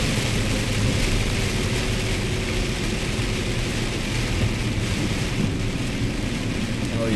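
Heavy rain falls during a drive in Tampa on a wet, dark day, a loud continuous hiss and drumming with road rumble underneath.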